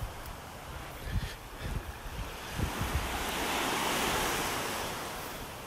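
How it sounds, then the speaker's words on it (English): Ocean waves breaking on a beach in North Naples, Florida, on a calm morning: rolling surf with several distinct wave impacts, then a steady swelling wash of water, wind noise brushing the microphone. "out just listening to the waves"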